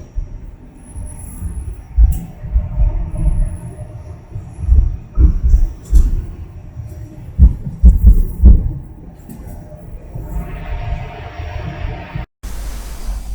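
A Toronto streetcar tram waiting at a city stop near University Avenue and St. Andrew subway station, low rumbling with a few heavier thuds and clanks, then a brief hiss of air near the end.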